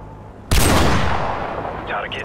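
A single loud sniper rifle shot in the Call of Duty: Modern Warfare video game sounds as a sharp crack that rolls into a long, fading echo, followed by a faint voice near the end.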